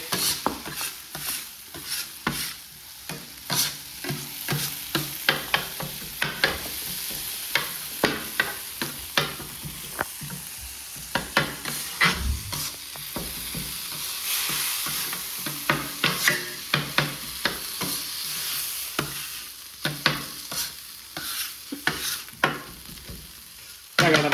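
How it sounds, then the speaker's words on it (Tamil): Eggs sautéing in a pan for Madurai-style country chicken salna, a steady sizzle broken by frequent sharp scrapes and clinks of a spoon stirring against the metal, close and fairly loud throughout. "முட்டையை இடுங்க. முட்டை கொஞ்சம் வதங்கட்டும்."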